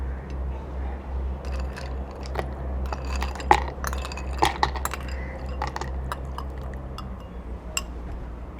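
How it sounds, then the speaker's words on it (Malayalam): A scattered series of hard clinks and clatters as ice cubes tumble into a blender jar, over a low steady hum. "അപ്പോൾ നമുക്ക് ഐസ് ക്യൂബ്സ് ഇതിലേക്ക് ഇട്ട് കൊടുക്കാം."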